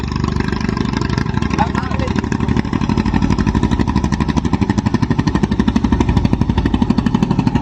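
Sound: fishing boat engine running

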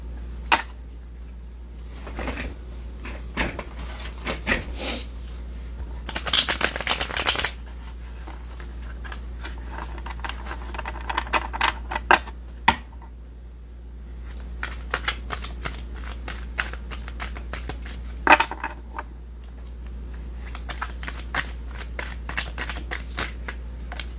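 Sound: shuffling a deck of cards

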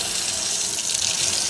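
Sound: tap water running while washing lenses in lukewarm water

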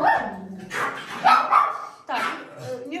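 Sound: dogs barking

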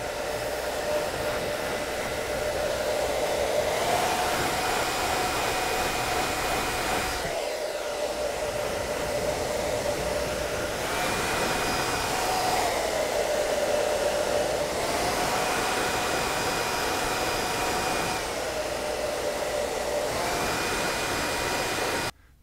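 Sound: hair dryer blowing hot air to melt mustache wax

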